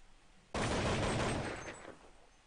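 A single sustained burst of gunfire in Counter-Strike on the de_nuke map bursts in abruptly after a quiet moment. It stays loud and dense for about a second, then tails off, with no talking.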